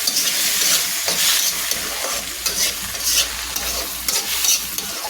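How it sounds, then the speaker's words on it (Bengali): Cut sweet pumpkin pieces tossed into a hot frying pan with onion and green chili paste, producing loud stirring scrapes and a bright sizzle that rises and falls in bursts. "দিয়ে দিলাম আমি মিষ্টি লাউ কেটে রাখা মিষ্টি লাউগুলো দিয়ে দিলাম"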